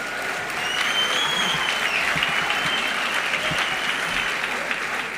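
Sustained audience applause at the WSAS2022 closing ceremony, a dense, even wash of clapping from a large crowd holding steady throughout.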